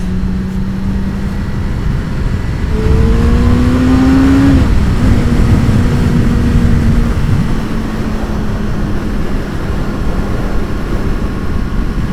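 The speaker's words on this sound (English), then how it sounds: "I have a straight road now. You can accelerate a bit." A Yamaha MT-09 motorcycle accelerates along a straight road, its engine note rising in pitch over a loud, steady rush of wind noise, then settling into a constant drone.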